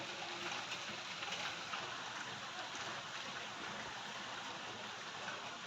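Soft, even rain hisses steadily throughout, a continuous wash of drops with no pauses or voices.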